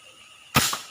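A single sharp, close shot from a homemade airgun charged to 1000 psi bursts out of a quiet background and decays quickly.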